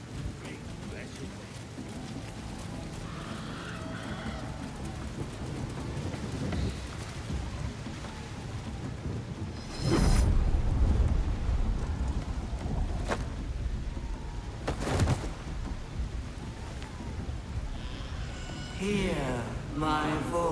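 Rain and rolling thunder in the Baldur's Gate 3 video game, with a steady wash of rain and loud thunder cracks near the middle and later, all under continuous character dialogue.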